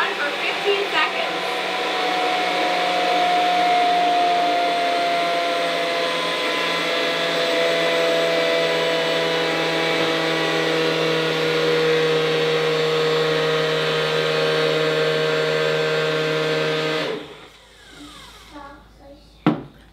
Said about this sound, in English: So just like I'd clean any blender, I rinsed it clean, put in some warm water along with a drop of dish soap, and we're gonna pulse it